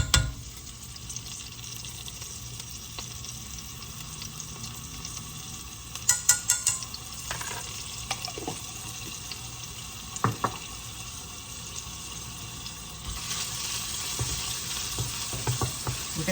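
A small amount of garlic and mushrooms fry in a pan, giving a low, steady sizzle with a few clustered clicks and scrapes midway and a brighter hiss toward the end, moderately close and with no voices.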